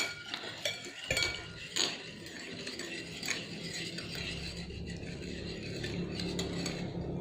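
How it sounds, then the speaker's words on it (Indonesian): A utensil stirs an oil mixture in a container, giving close, irregular light clinks and scrapes against the sides, with a soft continuous swishing beneath and no talking. "selanjutnya kita aduk ya kedua bahan ini"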